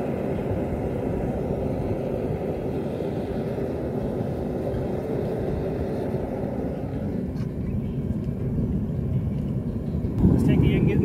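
A gas torch roars steadily into a metal melting furnace, a broad continuous rushing rumble that swells louder near the end.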